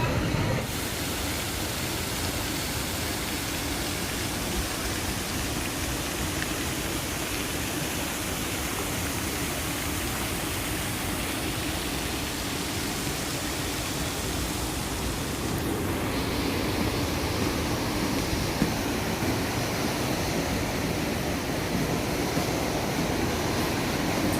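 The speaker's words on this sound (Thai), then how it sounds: "ฝนตกนะครับเนาะ" Steady, even rain falls outside an eatery in Singapore, a constant broadband hiss throughout with no breaks.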